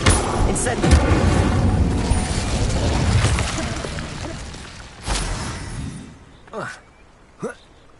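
An Incendiary fire spell in the video game Hogwarts Legacy erupts with a loud, roaring blast that rumbles on for several seconds. It is followed by a fainter whoosh and two short, sharp swishing sounds as it dies away.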